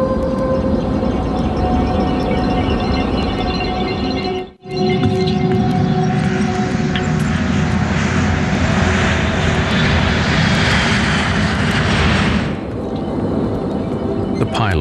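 Alaska Airlines Flight 261, a crippled airliner with a jammed stabilizer flying off the coast near Los Angeles, gives a steady, loud engine roar in flight that holds throughout with one brief dropout near the middle.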